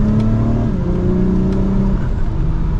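The turbo V6 of a 2023 Acura TLX Type S SH-AWD drones steadily while driving, its engine note rising smoothly in pitch under acceleration, heard loud and close.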